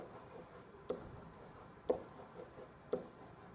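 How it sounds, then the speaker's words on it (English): Pen drawing squares on paper, faint soft scratching strokes with three small tapping accents about a second apart, quiet and close. "I'm going to draw 8 squares"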